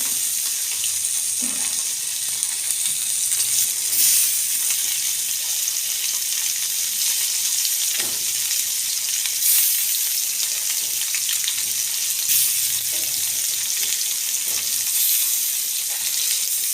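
Oil hisses and sizzles in a pan of mixed ingredients, a steady close frying crackle with faint stirring and scraping touches throughout, no voices.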